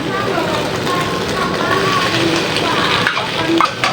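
Squid and chili stir-fry in a hot pan for spicy basil noodles, giving a continuous crackling sizzle with scraping stirs, while a voice speaks faintly over it.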